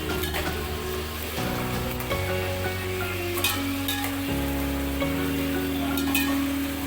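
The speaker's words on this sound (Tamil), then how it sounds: "கொஞ்சம் தீயை கூட்டி வைப்போம். கொஞ்சம் கிளறி விடணும்." Beef curry fries and sizzles steadily in a pan as it is stirred, with close hissing and occasional utensil scrapes under sustained tonal background music.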